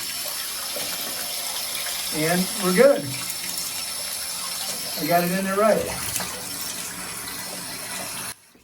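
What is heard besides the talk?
water running from a Moen shower valve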